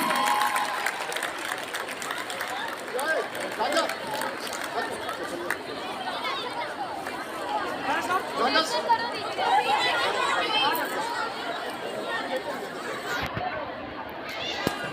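A crowd at a civil defence drill at a college claps amid continuous chatter and voices, the applause mixed under talk at a fairly steady level throughout.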